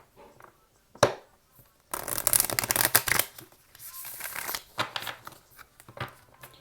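A Wild Unknown tarot deck shuffled close by: a sharp tap, then bursts of riffling and sliding cards with short pauses between, with no talking.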